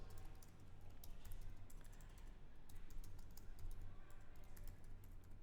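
Steady, rapid typing on a computer keyboard while someone edits an HTML web page, with quick light key clicks running continuously over a low background hum and no speech.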